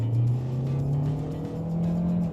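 A Kia K8 Hybrid sedan's engine roars under full throttle, its pitch climbing steadily as it accelerates, loud and close from inside the cabin.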